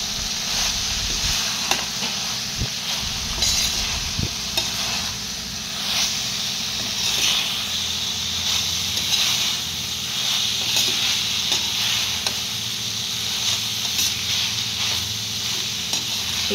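Fried potatoes stirred into a hot, sizzling chilli sauce in a pan, with a steady close hiss of frying and the occasional scrape of the spoon running throughout, no talking.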